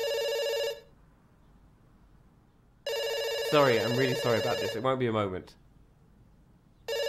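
A telephone in the video game Dr Langeskov, The Tiger, and The Terribly Cursed Emerald rings in loud repeating bursts separated by gaps, and someone speaks apologetically over one ring.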